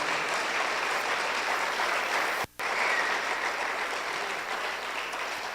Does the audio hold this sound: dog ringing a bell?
no